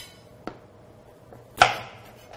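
Two crisp knife chops through a non-hot sweet pepper on a cutting board, cutting it into rings: a light tap, then a louder, sharper chop about a second later.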